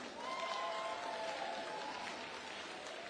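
A festival audience in Hawaii claps in a steady, sustained round of applause, a dense wash of hands heard throughout at moderate distance, with a faint voice briefly audible over it.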